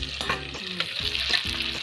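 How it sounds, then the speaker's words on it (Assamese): White gourd and potato chunks fry for duck curry, a steady close sizzle with bursts of stirring scrapes against the pan and no voices. "এনেকৈ অকণমান সময় ভাজি থাকিম"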